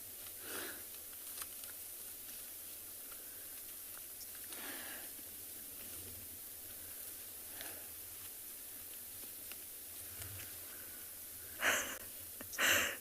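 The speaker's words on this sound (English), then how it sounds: "Having buffalo all around us, you can actually hear the ones breathing quite heavily." Buffalo on a morning safari in South Africa breathe heavily nearby in slow, spaced exhalations against a quiet outdoor hiss. A couple of louder snorting breaths come near the end.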